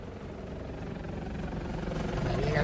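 A Condor aircraft arriving in the video game Gears of War 4, a rotor-like engine drone that swells steadily louder as it approaches, heard over faint game background.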